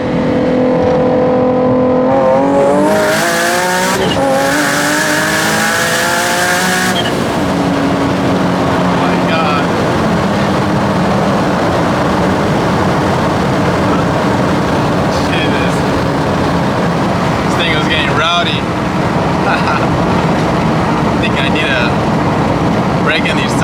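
A Z car accelerates hard on a pull, its engine climbing loudly through rising rev sweeps and gear changes in the first seconds before settling into a sustained roar of wind and road noise, heard from inside the car.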